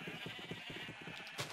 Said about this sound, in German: Ich möchte gar nicht wissen, wie viele Schafe das hier sind.